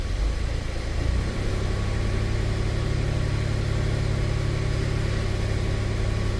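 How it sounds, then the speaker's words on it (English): A 2006 Pontiac Montana's 3.5L V6, running rich-lean fault codes, held under brake torque: a steady, loud, low engine drone that rises slightly after the first second and then holds constant without pause. "See what happens when we brake torque this."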